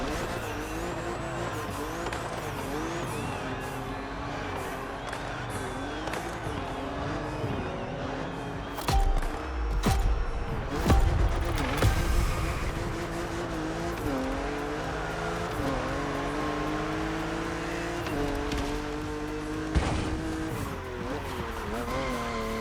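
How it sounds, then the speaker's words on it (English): A Ferrari F40 races in the video game The Crew Motorfest, engine note rising and falling through gear changes, with tire squeal and skidding midway, loud and continuous. "I love the Ferrari F40."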